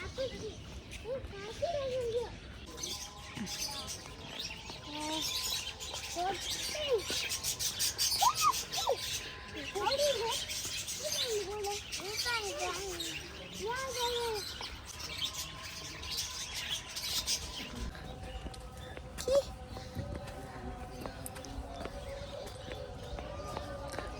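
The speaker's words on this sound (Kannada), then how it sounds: "ಎಲ್ಲ ಹಕ್ಕಿಗಳದ್ದು ಸೌಂಡ್" Birds chirp and tweet at a farm in the UAE around six in the morning, with scattered small calls through the outdoor ambience, mixed with people talking and children's voices nearby.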